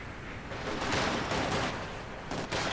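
In Company of Heroes 2, German Grenadiers fire Gewehr 43 rifles in a dense, overlapping crackle of battle gunfire that runs without pause for a few seconds.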